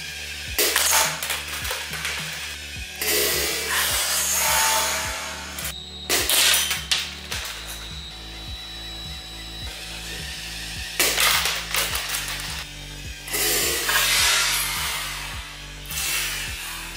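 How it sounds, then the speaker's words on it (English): An air-powered three-barrel Lego shotgun fires rounds in several bursts, each a loud, close pop followed by a rushing hiss of released air. A lower motorized hum runs beneath. "shooting 3 rounds makes it way easier to hit my targets"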